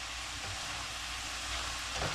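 Homemade french fries frying in hot oil, a steady, even sizzle lasting throughout with no voices.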